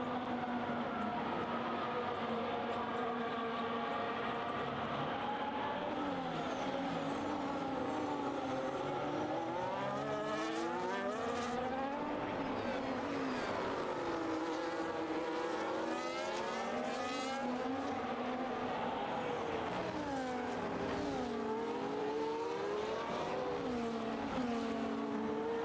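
Race cars lapping a circuit in Spain in a video game race, high engine whines rising and falling in pitch as several cars rev, shift and pass, continuous and moderately loud with no talk.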